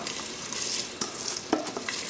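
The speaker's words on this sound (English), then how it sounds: "I'm going to add my rice in here." Rice with soy sauce goes into a hot pan and is stirred, giving a soft steady sizzle with occasional scraping knocks of the utensil, fairly quiet and close.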